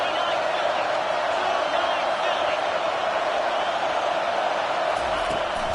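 Stadium crowd at a football game keeps up a steady, loud roar of cheering and noise through the whole stretch, with a broadcast commentator's voice running over it.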